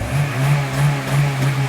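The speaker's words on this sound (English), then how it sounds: "so let's give it a little rev" A Honda Civic EP3 Type S four-cylinder held against its rev limiter near 4,000 rpm gives a steady droning hum that pulses rhythmically as the limiter cuts in, close and fairly loud with no talk.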